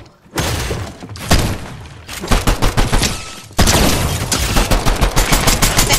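Rapid bursts of gunfire in the Fortnite video game, a pistol among the weapons, come loud and close in dense repeated volleys with a short pause before a renewed barrage.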